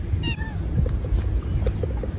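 A domestic cat, one of several dumped outdoors, gives a few clear meows early on, rising and falling, over steady low outdoor rumble and background noise.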